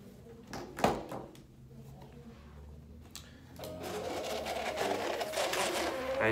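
An office printer runs off an invoice copy: a few soft clicks and knocks, then a steady, louder mechanical whirring and rattling that continues to the end.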